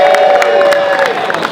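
A live audience cheers and applauds, with loud, close whoops and shouts over scattered clapping and a high sustained yell that fades toward the end.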